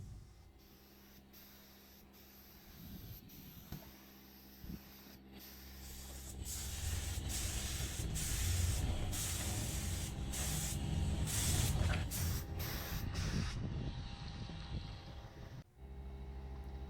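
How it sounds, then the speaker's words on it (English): A spray gun hisses steadily as it lays a light coat of paint over primer on a VW Polo GTI body panel, with loud, close bursts separated by brief pauses. "it's just a very light spray over the top of the primer and the rest of the body panel really."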